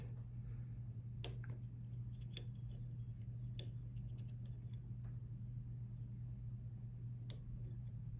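Sharp, faint metallic clicks tick out one at a time, irregularly spaced, as a Lishi 2-in-1 pick works the pins of a Schlage lock, over a steady low hum with no talking.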